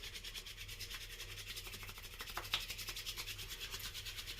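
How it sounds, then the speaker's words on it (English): Hands rub together to warm heavy-hold pomade, a soft, steady brushing friction repeated in a quick back-and-forth rhythm, close but quiet. "I'll warm it up by rubbing my hands"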